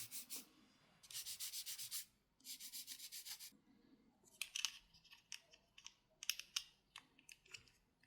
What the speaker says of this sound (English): We're also going to make sure to remove those mold lines just using our scalpel and a UMP sander.